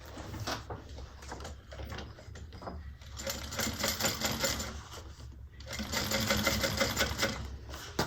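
A sewing machine top stitches a handbag seam with its seam allowance pressed toward the base, a loud, continuous rapid whirring hum close by with brief dips and rustles of fabric being handled.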